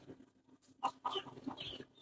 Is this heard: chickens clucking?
yes